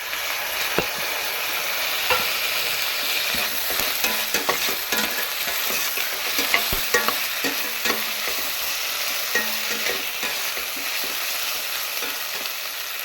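Chopped tomato sizzles and fries steadily in a hot pan, with occasional scraping stirs and small pops throughout; no voices.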